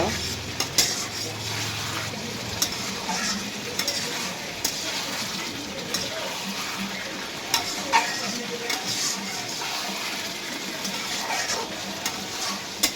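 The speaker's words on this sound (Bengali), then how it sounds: "তরকারিটা কষানো প্রায় হয়ে এসছে। আমি আর একটু নেড়ে ছেড়ে নেব।" Taki fish and bottle gourd curry being stirred in a pan over the heat, with a steady close sizzle and frequent light clinks and scrapes of the spoon against the metal throughout.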